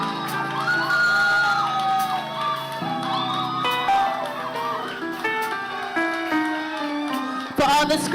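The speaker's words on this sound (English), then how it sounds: "For all the screaming that you did, Moyan, I'm glad that the screaming is also this loud." An audience at a students' union leadership awards ceremony screams, whoops and cheers loudly and continuously, with many overlapping high-pitched shouts that rise and fall before a final burst.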